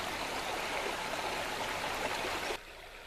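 Steady rushing flow of Red House Brook, a small trout stream at low summer water with pools and little waterfalls, loud and continuous, then cutting abruptly to a quieter wash near the end.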